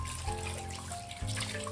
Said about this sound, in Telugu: 1 హాఫ్ లీటర్ వాటర్ అండి పోయి.